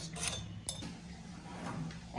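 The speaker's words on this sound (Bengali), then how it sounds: "আমি এখন আচারটা অল্প অল্প করে একটা জারে দিয়ে দিচ্ছি।" Olive pickle spooned bit by bit into a jar, heard as a few light clinks and scrapes of the spoon against glass over a steady low hum.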